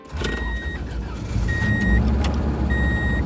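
A Subaru car, after a battery problem, turns over and its engine settles into a steady low idle. Three repeated electronic warning beeps sound close over the running engine.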